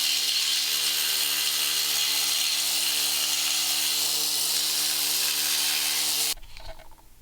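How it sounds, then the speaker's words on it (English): A needle scaler rattles continuously against crusty early Ford Bronco body mounts, a loud, dense, unbroken buzzing hammer that runs for several seconds before cutting off abruptly. "Now I'm going to take a needler and clean up the what's in the 2/4 and all that."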